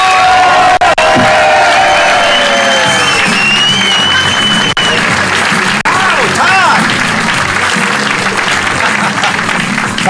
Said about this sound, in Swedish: Fan vad härligt att få en sån varm och fin applåd.